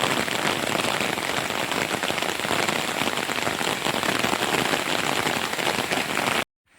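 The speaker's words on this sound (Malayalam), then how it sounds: "പൊരിഞ്ഞ മഴ കേട്ടോ, ചെറിയ മഴയൊന്നുമല്ല" Heavy rain pours steadily on a Pathanamthitta village amid forest and hills, a dense, loud, unbroken hiss of drops drumming on surfaces that cuts off abruptly at the very end.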